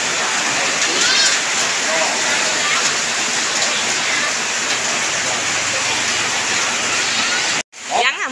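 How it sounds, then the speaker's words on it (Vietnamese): Heavy rain pours down at night with floodwater all around, a dense, loud and continuous hiss of falling water that cuts off abruptly near the end, with a voice speaking under it. "Mưa lớn quá cả nhà ơi, hồn quá này ơi."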